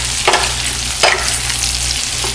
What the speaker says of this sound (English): you can shake your pan and let them saute for about 2 to 3 minutes undisturbed until they get a nice little brown